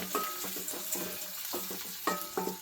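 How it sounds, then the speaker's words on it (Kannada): Sliced onion sizzles in hot oil in a pan while a spoon scrapes and stirs it in a steady, rhythmic pattern. The frying hiss is close and continuous, with clinks and scrapes on top. "ಈರುಳ್ಳಿ ಫ್ರೈ ಆಗಿದೆ."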